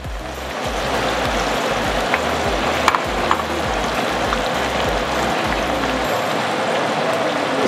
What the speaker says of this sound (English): When I add my onions, I'm gonna let it fry for about a couple of minutes.